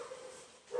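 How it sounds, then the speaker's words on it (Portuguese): A dog barks in a short, faint burst, rising near the end of a brief, quiet moment. "Se vocês escutarem aí as latidas dos cachorros"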